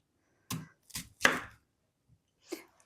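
A knife cuts an onion into thick half-centimetre rings on a board, four crisp chopping strokes in an uneven rhythm, close and clear with near silence between.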